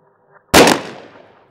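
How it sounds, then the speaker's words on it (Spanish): A single rifle shot cracks out loud and close, a sharp blast that decays into a short rumbling tail, heard as a sound effect in a witch story. "Un disparo del rifle de tu abuelo."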